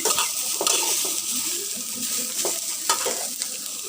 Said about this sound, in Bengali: সাদা তেল দিয়ে দিচ্ছি